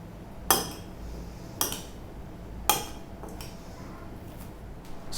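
A salad of beetroot, potato, carrot and onion is mixed in a bowl, giving three sharp utensil clinks against the dish at roughly one-second intervals over a quiet background, with fainter scrapes later.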